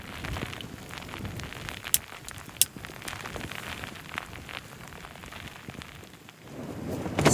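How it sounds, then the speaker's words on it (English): Wind gusts buffet a tent on a wild camp in the Lakeland fells, a constant rough flapping and rattling roar that swells again toward the end, with no talk. "So the wind's blowing my tent around quite a bit."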